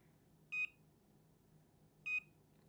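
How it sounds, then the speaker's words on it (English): Chessnut Go electronic chess board giving two short, clear high-pitched beeps about a second and a half apart as it connects over Bluetooth, over a quiet low hum. "So it should automatically connect and you'll hear it beeps."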